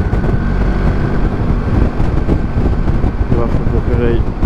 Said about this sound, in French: donc on a l'impression que le moteur est fort bas en régime